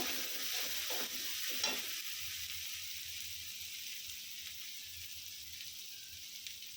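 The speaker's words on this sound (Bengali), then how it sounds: "জিরা গুঁড়া দিয়ে দিলাম পরিমাণ মতো আবার ভালো করে নেড়ে নেব" Tuna curry with cumin powder stirred in a pan, a few scraping stir strokes early over a soft continuous sizzle that settles into a quieter steady simmer, close, no talking.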